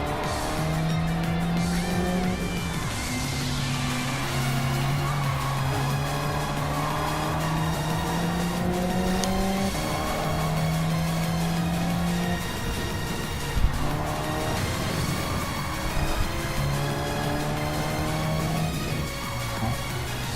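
Race cars racing, with a BMW being overtaken on the outside, steady loud engine drone with several cars' engines shifting pitch together, occasional tire squeal and one sharp knock partway through.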